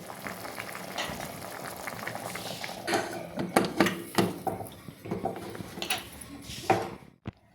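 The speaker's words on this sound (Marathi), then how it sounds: "आपल्या कालवणाला मस्त उकळी आलेली आहे" Bubbling, sizzling of dried prawn curry boiling in a pressure cooker, with scattered clinks and knocks of metal pots, steady throughout, ending in a sharp click.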